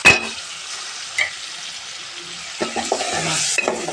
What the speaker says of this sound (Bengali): মাছটাও মশলা দিয়ে আমার কষানো হয়ে গেছে